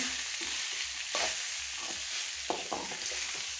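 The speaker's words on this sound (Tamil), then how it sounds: "இது கூட சாதத்தை எடுத்து போடுவோம் நல்லா கிளறி விடுங்க" Rice being stirred into fried pepper masala in a pan for pepper rice, a steady sizzle with repeated scraping strokes of a spoon against the pan, close and alone.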